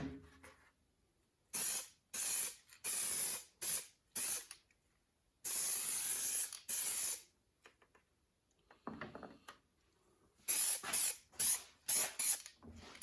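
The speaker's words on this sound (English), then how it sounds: "This is a real light coat just to cover the black" Aerosol spray paint hisses in short, loud bursts laying a real light gray coat over black on a 1968 Mustang part, pauses between passes and a few soft handling sounds.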